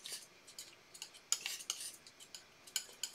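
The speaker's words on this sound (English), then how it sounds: "Gonna mix that darker yellow with a palette knife" A palette knife taps and scrapes against a palette while mixing darker yellow oil paint with medium, giving quiet, irregular clicks and short scrapes, close and alone.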